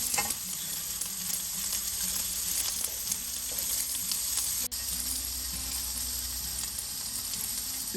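Squid fry in a hot pan, giving a steady, close sizzle with a constant high hiss and occasional soft stirring clatter throughout.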